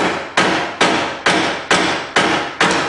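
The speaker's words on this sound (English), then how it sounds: "hit the grease cap off the hammer" Six loud, evenly spaced hammer blows knock a grease cap off an EZGO TXT golf cart hub, each a sharp metallic strike that fades before the next.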